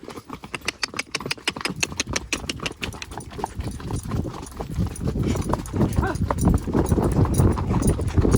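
A mare's hooves clip-clop at a steady walking rhythm while she is led along a rough road to have her hooves trimmed. The footfalls are close and clear, and voices are heard over them.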